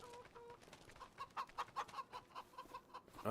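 Video game chickens in Farming Simulator 25 cluck in quick, uneven bursts, fairly close and moderately loud, with a light background hum.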